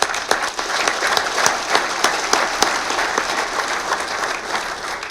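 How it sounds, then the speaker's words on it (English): Sustained audience applause at a golf association's annual meeting, a dense, steady wash of many hands clapping at close range for about five seconds with no talk over it. "please join me in a round of applause."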